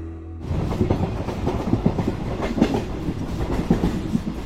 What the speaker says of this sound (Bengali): স্টেশনে এসে মিনিট 15-র মধ্যে আমরা পেয়ে গেলাম একটা ট্রেন।